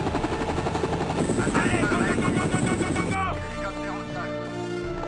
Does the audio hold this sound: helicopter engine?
yes